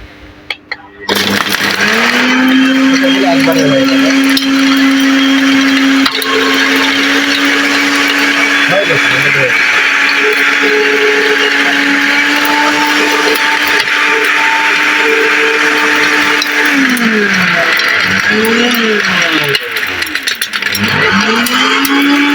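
A powerful electric touch-button blender whirring loudly and steadily in pulse mode, its motor holding a strong drone for most of the run, then cutting out and restarting in short bursts near the end.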